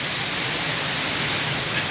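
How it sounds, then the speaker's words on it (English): A river rushes through a wintry mountain gorge in Slovenia over small waterfalls, a loud, steady, broadband roar of water with no breaks. "There's quite a lot of noise from the river and sort of mini waterfalls."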